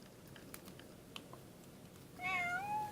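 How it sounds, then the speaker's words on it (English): A domestic cat meows in a clear, rising, drawn-out call close to the microphone near the end, after a stretch of quiet room noise with a few soft taps. "That is my cat coming to my lap."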